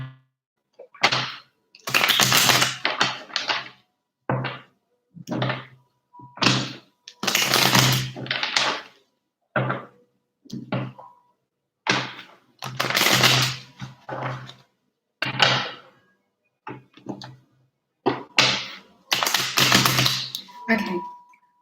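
A deck of tarot cards is shuffled again and again, making a run of sharp riffling and slapping bursts separated by short pauses, close and fairly loud.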